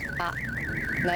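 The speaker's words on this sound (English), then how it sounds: "that's the alarm going." A car anti-theft alarm wails with a rapid rising-and-falling electronic siren, loud and continuous, with a brief voice cutting in near the start.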